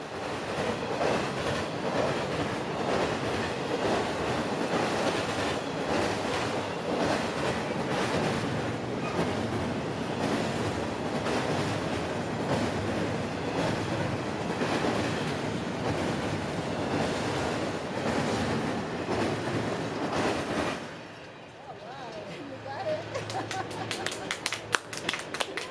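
Diesel locomotives built for CSX pass in the evening at Plant City, Florida, a loud, steady rolling rumble of rail cars lasting about twenty seconds before dropping away, followed by quieter ticking sounds.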